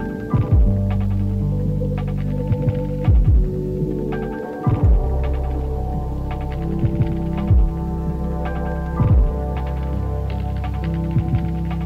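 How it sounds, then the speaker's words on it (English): A lo-fi tape loop sample plays back in Reaper, with steady sustained tonal layers and a repeating throbbing pulse that recurs every few seconds, warm and moderately loud throughout. "it's actually a tape loop that I created"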